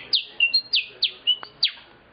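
A man whistles an imitation of a canary's song: a quick string of about six bright, descending chirps and short trills, close and clear against a quiet background.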